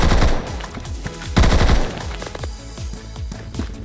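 Video game gunfire rings out loud and close in rapid automatic bursts, with dense overlapping shots and a brief pause before firing resumes, no voices.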